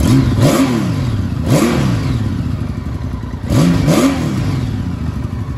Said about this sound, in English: Very fast revving motor.